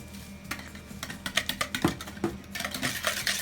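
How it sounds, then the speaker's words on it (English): Cake batter for a molten chocolate lava cake whisked in a bowl while castor sugar is added: quick, rhythmic clicking taps of the whisk against the bowl, close and steady, with no talking. "Keep adding and whisking simultaneously."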